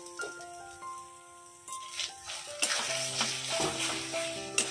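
Mashed flat beans fry in a pan with a soft sizzle that grows louder, punctuated by scraping stirs and faint clinks, close and without talk.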